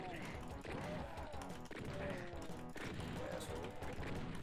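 Gunfire from the classic first-person shooter Doom, several shots in quick succession over a dense, continuous game soundscape with music and effects, while a person talks throughout.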